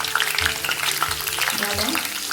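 Garlic frying in hot oil in a pan, a continuous close sizzle with crackles and a few low scraping stirs, heard without talk.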